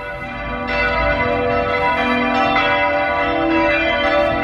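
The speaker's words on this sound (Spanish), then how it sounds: "todas las campanas están pues sonando" Many church bells ring at once across a city during a commemoration, a sustained, resonant clangour with repeated strikes layering over a steady hum, heard from a distance with no speech.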